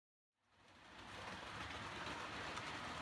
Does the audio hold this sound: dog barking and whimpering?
no